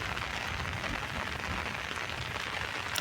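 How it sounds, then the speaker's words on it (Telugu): Heavy rain falls steadily in a rural tribal area, a constant faint hiss of water on surfaces with no voices and no breaks. "చాలా అంటే చాలా పడుతుంది వర్షం."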